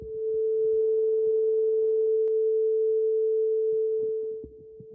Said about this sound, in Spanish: Y un ejemplo de sonido puro es el diapasón.